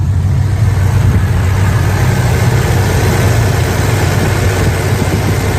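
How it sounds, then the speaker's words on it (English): A muscle car's engine idles steadily and close up, a smooth, continuous low rumble with no talk over it. "Let's take a listen to the engine."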